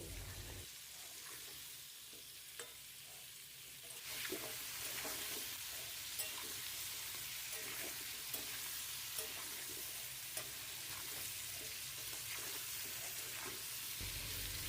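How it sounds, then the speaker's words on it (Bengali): Raw mango pieces fry and sizzle in a pan for a sour-sweet pickle, a steady hiss that swells louder a few seconds in, with occasional soft clicks of stirring. "আমগুলোকে এবার আমি একটু ভেজে নেব"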